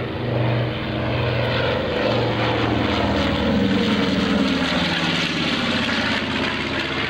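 A B-25J Mitchell bomber at a World War II weekend drones loudly and steadily with its twin propeller engines, a continuous throbbing roar close by with no talking.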